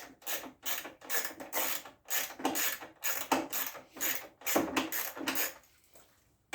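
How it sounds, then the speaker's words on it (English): Ratchet wrench with an 8mm socket backing out fasteners on the bottom panel of a Toro snow blower, giving repeated bursts of quick metallic clicking separated by short pauses, close up and alone. "Just an 8mm socket, or you can use a flathead screwdriver as well."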